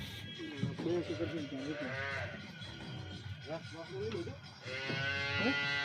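Cows in Surendranagar give several drawn-out moos of varying pitch, fairly close, mixed with a busy background of people talking nearby.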